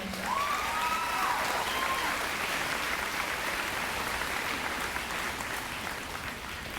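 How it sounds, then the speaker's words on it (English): Warm, sustained applause from the crowd at an Oak Grove High School graduation ceremony, a dense, steady wash of many clapping hands that carries on evenly and fades only slightly toward the end, with a brief tone at the start. "Graduating students, please give these special people a round of applause today."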